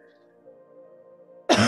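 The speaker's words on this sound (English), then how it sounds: "Excuse me, sorry for the cough." A single cough bursts out near the end, loud and close, after a quiet stretch of low hum during a yoga and meditation class.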